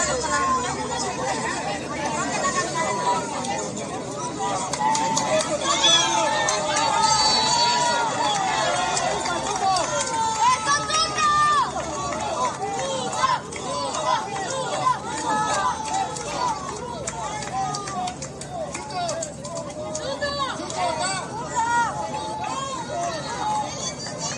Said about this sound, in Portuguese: vocês conseguem perceber aqui que ele foi ovacionado ao chegar para votar